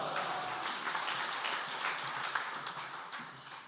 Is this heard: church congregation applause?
yes